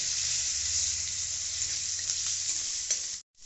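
Chopped tomatoes hit hot oil in a pan for khichdi with gobindobhog rice and moong dal, giving a close, crackling sizzle with a low bubbling hum beneath that runs steadily before cutting off abruptly near the end.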